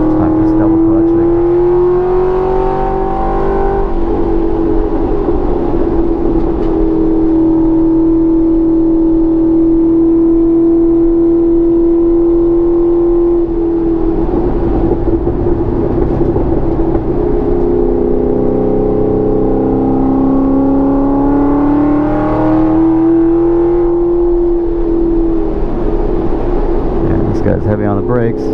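Engine roars and revs continuously from inside a fender-flared home-built Mustang at Roebling Road Raceway, pitch rising and falling through gear changes, with someone talking over it.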